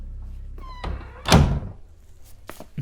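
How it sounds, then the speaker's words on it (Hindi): A door is pushed shut with a heavy thunk, close and loud, preceded by a brief creak and followed by a fainter knock. "दरवाजा बंद करो।"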